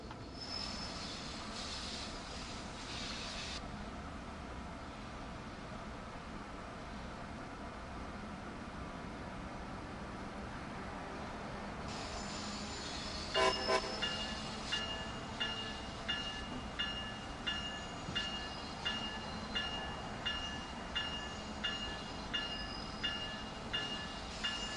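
A double-headed freight train rolls by in Train Sim World 5: a steady low rumble of locomotives, then a long run of regular wheel clicks over rail joints as the wagons pass, fairly quiet and heard alone.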